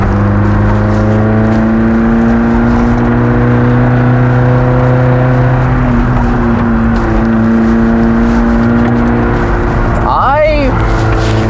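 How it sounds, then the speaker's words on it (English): Engine and road noise inside a Toyota AW11 MR2 fitted with new rear coilovers, a steady drone with shifting pitch as it drives, close and loud, with someone talking over it. "Well, again, the car does still move."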